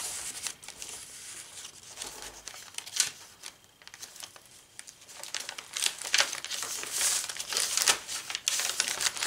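Coffee-dyed paper from an old teacher's plan book rustles and crinkles up close as it is handled, in irregular bursts of crisp crackling that grow busier toward the end.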